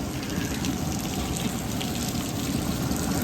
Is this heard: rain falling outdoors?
yes